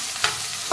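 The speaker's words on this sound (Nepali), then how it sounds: "भुट्छु," Sliced sponge gourd, turmeric added, sizzles in a pan as a spoon makes two quick scraping stirs, close and fairly loud.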